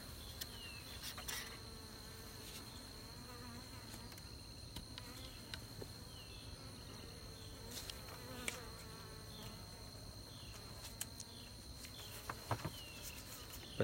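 A dense, steady hum of many honey bees buzzing close by, continuous throughout with no talking, as homemade comb is held in hive frames with bobby pins.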